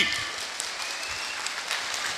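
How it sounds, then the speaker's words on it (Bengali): An audience at a company annual award ceremony claps continuously, steady and moderately loud, with a faint voice underneath. "হাততালি, হাততালি, জোরে হাততালি।"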